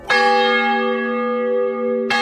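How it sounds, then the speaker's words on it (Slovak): The large bell of St. Anne's church in Trnava, cast by the Fischer brothers, gives one loud, close strike that hums on with a deep, steady ring and rich overtones before a second strike begins. "Toto je Trnava, kostol svätej Anny, veľký zvon od bratov Fischerovcov."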